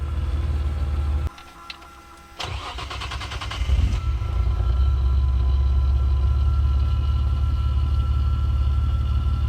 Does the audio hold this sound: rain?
no